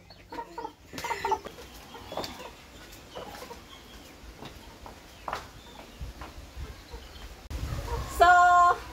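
A chicken clucks in short bursts with scattered bird calls, then a louder squawking cluck near the end.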